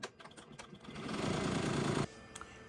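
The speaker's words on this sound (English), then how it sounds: "Let's get to stitching." An embroidery sewing machine fitted with a SewTech magnetic hoop starts stitching, a quiet ticking that builds into a fast, even whir and then stops abruptly, followed by a couple of faint clicks.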